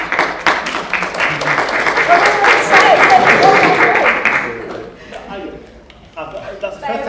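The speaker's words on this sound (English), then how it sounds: "I've been applauded for shutting up" Audience applause at a public philosophy forum on race, a loud sustained burst of clapping that fades out after about five seconds, leaving quieter scattered sounds and a voice.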